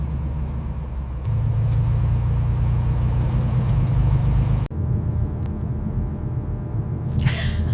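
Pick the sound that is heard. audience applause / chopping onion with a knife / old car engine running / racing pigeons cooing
old car engine running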